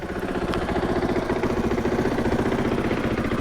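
A 2021 KTM 500 EXC dirt bike engine running steadily at a loud, close idle being broken in, with a fast, even pulsing throb throughout.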